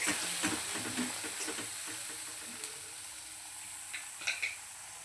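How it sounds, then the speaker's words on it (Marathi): Ground spice masala being stirred into a bangda (mackerel) fish curry in a pan, with a steady frying sizzle and hiss under scattered soft scrapes and a few light metallic clinks of the spoon, no talking. "आणि आपला वाटलेला मसाला घालूया. छानपैकी मिक्स करून घेऊया."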